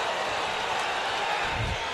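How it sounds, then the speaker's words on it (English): A crowd roars in a dense, steady wash of cheering at a combat sports fight night, loud and close throughout. "Crowd is going crazy here in support of both of these fighters"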